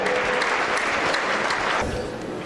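Audience applause welcoming a keynote speaker at Biztha Night 2014: dense, steady clapping fills the hall for about two seconds, then eases slightly toward the end.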